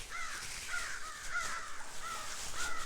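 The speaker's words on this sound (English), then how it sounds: "There are crows overhead talking to me." Crows caw overhead repeatedly, five or six harsh calls in a loose rhythm, somewhat distant, over a quiet outdoor background.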